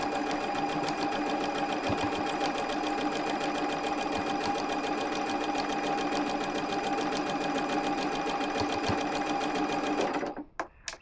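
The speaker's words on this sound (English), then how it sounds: "now we're ready to sew. Let's go ahead and put our foot down." Sewing machine stitching a quilted table topper, a continuous rapid mechanical whir close by for about ten seconds before stopping abruptly with a few small clicks.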